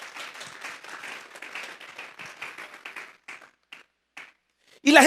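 Applause from a congregation at a Spanish-language Sunday service fades into a few scattered final claps. A louder burst of sound breaks in at the very end.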